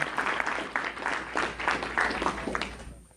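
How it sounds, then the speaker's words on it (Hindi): Applause for Dr. Hemant Kishore at a Hindi poetry gathering: a crowd claps steadily for about three seconds, a dense patter of many hands, then the clapping breaks off sharply. "एक बार जोरदार तालियां हो जाएं डॉक्टर हेमंत किशोर"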